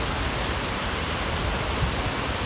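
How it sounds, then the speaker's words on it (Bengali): Heavy rain pours down as a steady, dense hiss that holds the same loud level throughout, with no voices. "আজকে এত বৃষ্টি"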